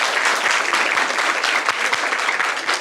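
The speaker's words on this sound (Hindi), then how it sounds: "जोरदार ताली।" Loud, dense applause from an audience at a gathering at Pragya Buddha Vihar in Dongargarh, Chhattisgarh, with many hands clapping steadily and close by throughout, and no one talking.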